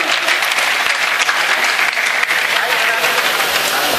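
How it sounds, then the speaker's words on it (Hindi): A crowd at a mushaira poetry gathering in Pipalsana, Moradabad, bursts into dense, continuous applause, loud and close throughout with a few voices mixed into the clapping. "तालियां तालियां"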